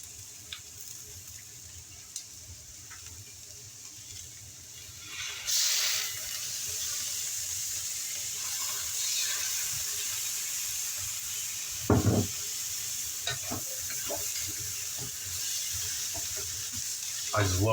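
Shaoxing cooking wine poured into a hot wok of vegetables for a celery chicken stir fry bursts into a sudden loud sizzle that keeps going, with a few scrapes and clatters and faint talk at the start.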